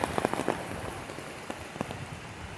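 Rain falls steadily on the Gatlinburg Trail in Great Smoky Mountains National Park, a close, continuous hiss with a scatter of sharper drops tapping nearby, no voices.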